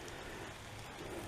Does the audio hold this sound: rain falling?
yes